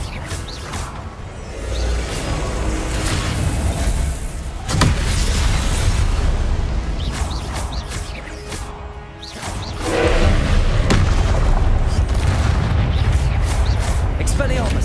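Loud booming spell impacts from Depulso and Expelliarmus in Hogwarts Legacy strike in heavy bursts with rumbling blasts and whooshes, while a player talks throughout.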